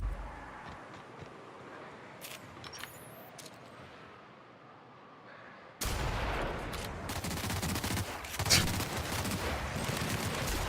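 Gunfire in The Outer Worlds, a quiet stretch followed by a sudden loud burst of rapid shots that keeps going to the end, with a sharp crack near the close.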